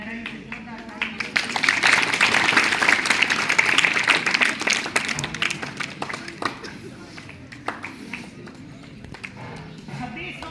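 Audience applause at an outdoor Constitution Day school event swells into a loud burst of clapping, then thins out to scattered claps, with voices mixed in.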